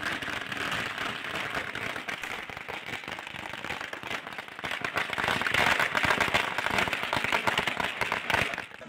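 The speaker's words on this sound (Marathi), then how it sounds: "फटाक्यांची आतषबाजी करत हा जल्लोष करण्यात आल्याची प्राथमिक माहिती।" Firecrackers burst in dense, continuous crackling rapid-fire volleys during a celebration on the premises of a court in Kolhapur, loud throughout and swelling louder in the second half, with faint crowd noise mixed in.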